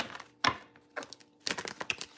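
Stiff, well-used tarot cards being shuffled by hand, heard as a few sharp riffling clacks and bursts separated by short pauses, close and fairly loud with no talk.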